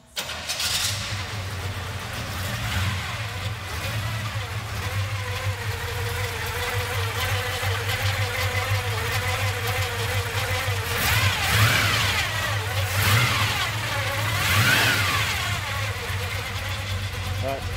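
A 1965 Chevrolet C10 truck's V8 engine cranks and catches, then idles with a gear-driven whine and revs up several times, loud and close.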